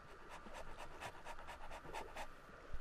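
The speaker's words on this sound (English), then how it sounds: "Is there a dog down here?" A dog pants rhythmically in the Minecraft video game, a steady series of quick, breathy huffs at low volume with no talking.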